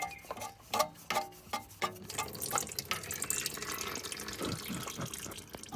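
Engine oil from a Kia Picanto trickling and dripping out of an unscrewed oil filter into a drip tray, a soft irregular splatter of drops close by, with brief clicks and handling noises at the start.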